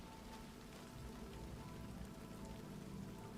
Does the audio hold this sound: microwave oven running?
no